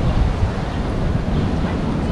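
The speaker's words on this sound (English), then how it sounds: "It's a little windy today." Wind buffets the microphone in a constant low roar with gusty rumbling, loud and close throughout, on a street walk in Downtown Brooklyn, New York City.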